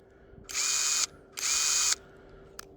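A cordless impact wrench runs in two bursts of about half a second each, with a high whine and rapid rattle. The bursts are close and loud, and a brief click follows.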